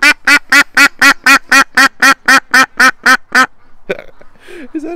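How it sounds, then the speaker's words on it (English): A duck on a farm quacks in a fast, even series of about fourteen loud, close calls, then falls quiet as faint rustling and softer sounds follow. "Quack again for us before I put you in the barn."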